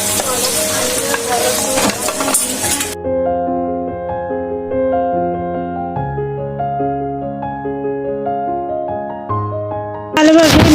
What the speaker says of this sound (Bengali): শিমের বিচি, শিম, বেগুন, টমেটো একসাথে দিয়ে ভালোভাবে নাড়াচাড়া করে মশলার সাথে মিক্স করে